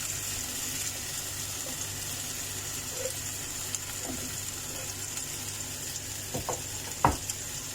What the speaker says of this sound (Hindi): ओनियन को फ्राई करना है कि ये सॉफ्ट हो जाए